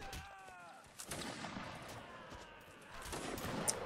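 A volley of musket fire in a Napoleonic-era multiplayer game, scattered sharp cracks and booms at a distance, fairly faint over low background rumble.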